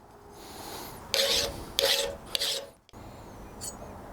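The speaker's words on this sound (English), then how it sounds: "We're going to keep cleaning up the outside here with the file." A blacksmith's metal file rasps across an annealed hammer head being shaped, several distinct close, scraping strokes in a rough rhythm followed by a short quieter pause.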